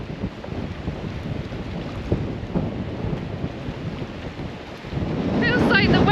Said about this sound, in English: It's really trying to rain and it's very, very windy.